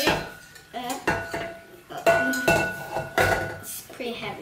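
A heavy KitchenAid stand mixer is set down in a home kitchen during crepe making, giving several sharp clunks and clinks of metal and dishes in an uneven series, close and fairly loud.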